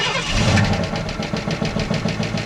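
A worn-out car engine runs close by with a rough, uneven idle, a steady knocking clatter repeating rapidly throughout.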